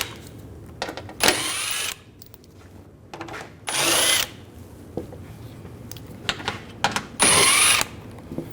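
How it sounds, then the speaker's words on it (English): A power tool spins out panel screws under a 2006-2009 Mercedes-Benz E350 during an engine oil change, three short whirring bursts of about a second each, close and clear, separated by quiet handling noises. "Take these screws out."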